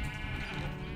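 Sheep bleating in Minecraft, one steady, continuous bleat lasting about a second at moderate loudness, with game background sound underneath.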